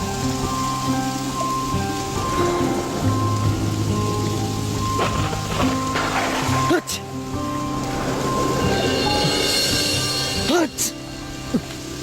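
Rain falling with thunder, a steady patter beneath a sustained musical score, with a couple of sharp cracks and rumbles breaking through; people talk over it.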